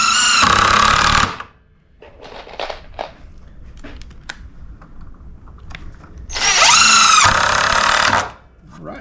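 A power drill drives number 10 by 2.5 screws into wood while building homemade jack stands, two loud whirring bursts at the start and end with quieter clatter and handling noise between.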